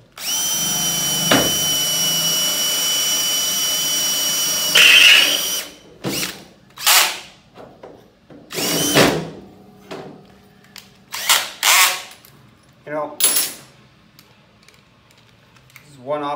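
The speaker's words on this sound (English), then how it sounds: "So we're going to put a 1/4 inch hole in here, and we're going to countersink it" A power drill bores a 1/4-inch hole through waxed aluminum for a boat build, a loud steady whine for about five seconds that then stops, followed by scattered clicks, knocks and handling noises.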